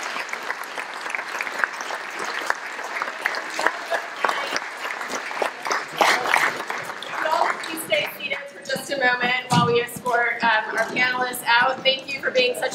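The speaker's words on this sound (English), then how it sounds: "If I could ask the audience to please give our guests a round of applause." An audience at a speaker-series conversation with Cal Cunningham and Senator Thom Tillis breaks into sustained applause, dense steady clapping filling the room, with voices and cheers rising in the final seconds.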